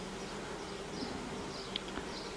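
Honeybees bunched in a small cluster at the entrance of an apiary hive on a 36°C afternoon give off a steady, soft buzzing hum, with a few individual bees droning close by.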